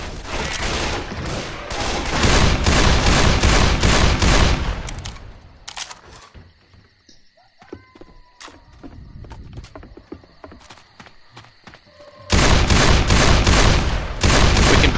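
Gunfire in Left 4 Dead 2 at a boathouse finale: loud, rapid bursts of automatic shots, a quieter gap with scattered clicks and mechanical noises, then another dense burst of firing.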